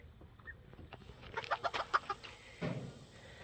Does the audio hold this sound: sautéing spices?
no